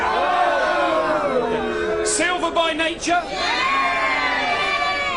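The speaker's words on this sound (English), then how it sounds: "I'll read out some horse names, and you cheer if you're backing them" A tipsy racecourse crowd roars and cheers loudly and continuously, with whoops and yells, while a voice calls out over the din of the revelers.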